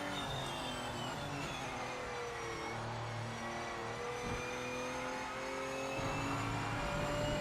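Race car engine in the Project Motor Racing video game, a continuous high whirring drone with shifting gear tones, steady and moderately loud without any speech.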